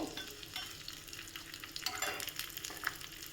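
Green chilies, curry leaves and dried red chilies crackle and sizzle in hot oil as tempering, with irregular pops and a soft steady frying hiss, fairly quiet and close.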